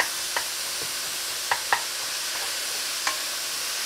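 Ground beef for chili cooking in a pot and being stirred, giving a faint steady sizzle with a few scattered scraping clicks from the spoon.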